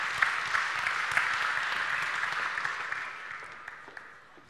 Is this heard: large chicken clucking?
no